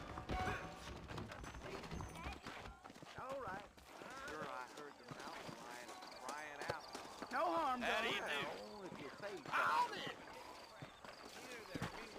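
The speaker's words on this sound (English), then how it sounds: "I got the horses saddled up and ready out front." Horse hooves clip-clopping in the Western video game Red Dead Redemption, a steady rhythmic patter under game music and spoken dialogue, with an occasional whinny.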